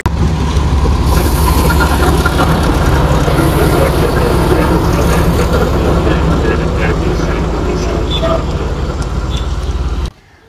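A passenger train runs along the coast toward Mount Lavinia beach near Colombo, Sri Lanka, with a loud, constant rumbling roar and rattle heard from inside the carriage for the whole stretch, ending abruptly.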